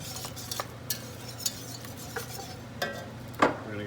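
A whisk beats cold milk into a paste for a mac and cheese sauce, with steady rhythmic clicks of metal against the pot and a louder clink near the end, close and without talk.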